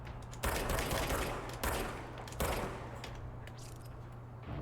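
Enemy gunfire in the video game Control comes in heavy bursts of rapid, loud shots, with three sharp volleys followed by sustained firing that slowly fades.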